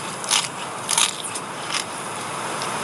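Close, crisp bites into a patty of locusts and beetles, a few sharp crunches and crackles spaced irregularly over a steady hiss.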